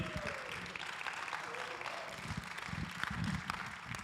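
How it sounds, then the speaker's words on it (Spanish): Church congregation clapping during a sermon, a fairly faint, uneven round of applause with some murmuring voices mixed in. "denle un aplauso al Señor"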